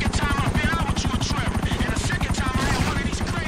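A helicopter in the GTA 5 video game passes close and loud, its rotor thumping in a fast, steady pulse through the whole stretch, with a faint hint of gunfire mixed in.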